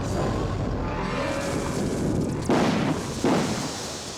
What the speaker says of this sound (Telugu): బయట ఏదో టపాకాయ పేలినట్టు శబ్దం వినిపించింది.